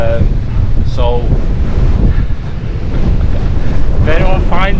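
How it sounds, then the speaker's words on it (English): Extreme wind roars across an open fell near Coniston, loud and continuous with heavy microphone buffeting and short whistling, whining tones in the gusts. "This is the windiest probably I've ever walked in"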